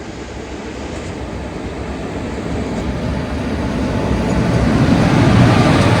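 The Amritha Express rumbles steadily while waiting to cross another train at Udumalpet station on a single-line route, a low continuous roar that slowly grows louder over several seconds, with no voices.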